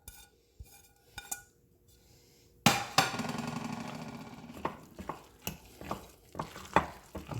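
Food for a meatless casserole hits a hot frying pan and starts browning, a sudden loud sizzle that slowly settles, broken by several clanks and scrapes of a utensil against the pan; quiet faint tapping comes before it.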